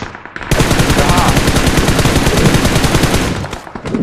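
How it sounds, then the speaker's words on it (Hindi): Rapid automatic gunfire from the mobile battle royale game BGMI, dense sustained bursts filling most of the clip, loud and close, with faint voices underneath. "फायर आ रहा है"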